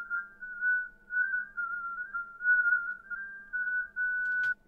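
A kamancheh rings with a harsh, piercing whistle-like resonance, one steady high tone held for over four seconds with faint bowed body beneath, then cutting off abruptly.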